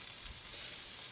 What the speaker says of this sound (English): I'm just going to brown the skin just a little bit.